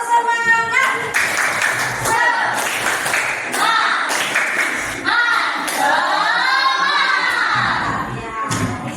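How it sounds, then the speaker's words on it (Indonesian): A classroom clapping chant led by a teacher, with bursts of rhythmic hand claps alternating with children's and an adult's chanted voices in a lively, close group. "Kita coba untuk tepuk semangat bersama-sama ya."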